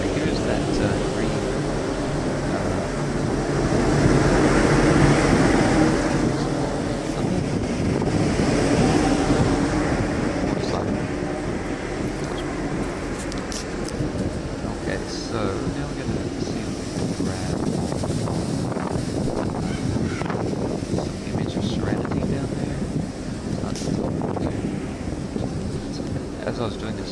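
Strong wind buffets the microphone in gusts on the top deck of a cruise ship, with a rushing, roaring texture and a person talking intermittently underneath.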